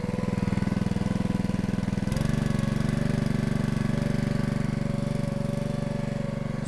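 Split-Fire 2265 log splitter engine running steadily at raised RPM while splitting red oak, a loud, continuous close-up drone with a dense rapid pulse, settling slightly higher after the throttle is bumped up about two seconds in.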